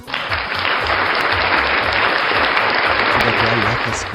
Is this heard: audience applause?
yes